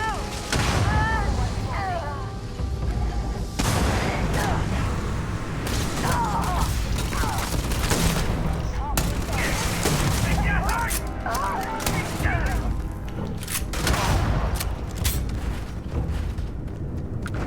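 Shotgun blasts in Starfield, a sci-fi game firefight, sound as repeated loud booming shots under continuous combat noise and a speaking voice throughout.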